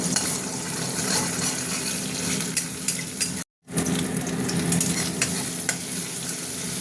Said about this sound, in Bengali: ডিমটা ভাজা ভাজা হতে থাক।